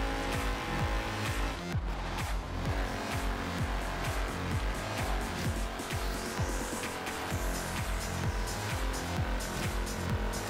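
A BMW Isetta races in Forza Horizon 3, its small engine droning steadily with a dense, buzzing, harmonic roar and a faint rising whine, and no voices over the constant game audio.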